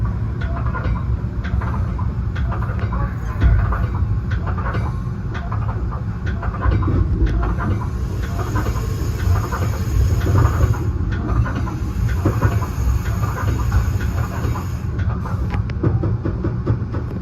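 A Metra BNSF commuter train, #1236, runs an express from Aurora to Chicago in the rain, giving a steady, loud rumble of rolling cars and wheels on rails that continues alone throughout.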